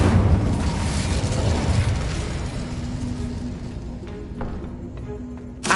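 A fire-spell blast in Hogwarts Legacy erupts as a loud, rumbling boom and then trails off into a sustained roar that slowly fades, with a small burst near the end.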